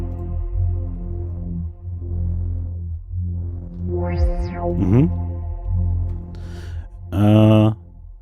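A synthesized audio pad with a degrading distortion effect plays sustained, buzzy harmonic tones, with sweeping pitch glides and sudden bright bursts near the end, heard alone without talk.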